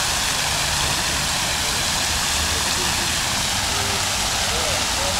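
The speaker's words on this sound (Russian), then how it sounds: "Вот такие красивые фонтаны." Park fountains in the Park of Forged Figures in Donetsk splash loudly and steadily, a dense continuous rush of falling water heard up close, with no talk.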